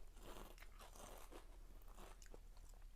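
Loud, close crunching and biting on chili-flavoured Australian kettle potato chips, a dense run of crisp cracks and chews filling the whole moment with no talking.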